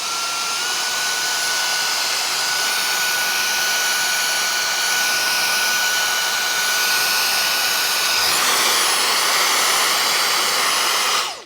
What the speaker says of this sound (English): What's gonna happen if you vacuum up some fog?